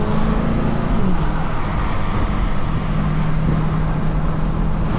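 A Dodge Hellcat Charger creeps along in slow road traffic in the rain, giving a steady, close drone of engine and road noise that stays even throughout, with no voices.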